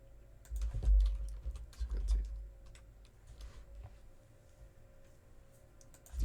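Keys clack in quick bursts of computer-keyboard typing, dense and close for the first couple of seconds, then thinning to scattered light taps over a low room hum with no talking.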